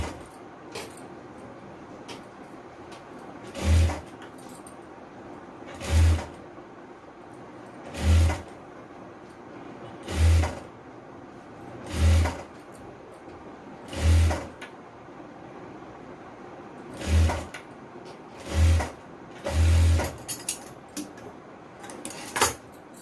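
A sewing machine stitches the folded hem of a frock in short, regular bursts about two seconds apart, each run a brief rattling whir separated by near-quiet pauses.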